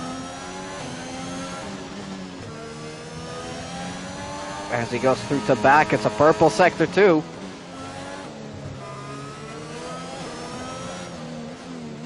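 Onboard engine of an F1 car lapping Monaco in the F1 2021 racing game, a droning whine with a burst of sharp rising and falling gear-change revs midway, under steady commentary.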